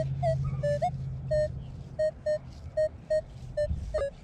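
A Minelab Equinox 800 metal detector gives a string of short, evenly spaced electronic beeps, loud and close, with a faint hum underneath.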